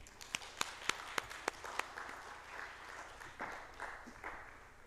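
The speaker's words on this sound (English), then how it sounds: "So let's applaud them." A few sharp, separate claps open, then soft scattered clapping and faint murmurs follow from an audience at an agribusiness acceleration session honouring entrepreneurs, fairly quiet and distant.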